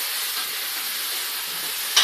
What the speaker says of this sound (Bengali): কারি পাতাটা দিয়ে ভাজা ভাজা করবে